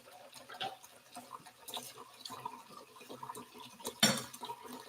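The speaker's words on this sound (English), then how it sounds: "I'm gonna fill that up again with water so that we can cook our soba noodles" Tap water runs into a kitchen pot being filled for cooking soba noodles, a soft continuous splashing with a brief metallic clank near the end, no talking.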